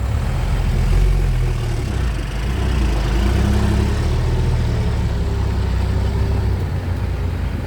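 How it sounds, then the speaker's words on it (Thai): A well-maintained Kobelco SK140LC-11 excavator with about 6,100 operating hours runs its engine in a steady, smooth low rumble, close and unbroken for several seconds with no talking. "เสียงยังนิ่มครับนะ เครื่องยนต์ไม่เคยขยับน็อตเลย"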